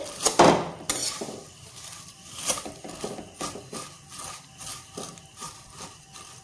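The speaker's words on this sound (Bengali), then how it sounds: "সিমুইটা এইভাবে ভাজতে ভাজতে" Vermicelli (semai) being fried and stirred in a pan for a sweet jorda dessert, heard as repeated close scraping and clinking of a utensil against the metal pan, irregular and fairly loud, with no talking.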